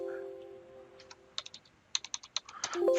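Typing on a computer keyboard during 3D scan processing software work: a run of crisp, quick keystrokes in an uneven rhythm, close and moderately loud, with a steady electronic hum beneath and no talking.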